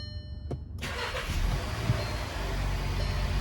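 A 2015 VW Jetta 1.8T engine cranks briefly and catches, then settles into a steady, close idle that runs to the end with no talking.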